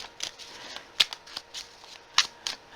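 Tarot cards being shuffled by hand, a series of close, crisp riffling flicks and slaps in an uneven rhythm, with several sharper snaps standing out.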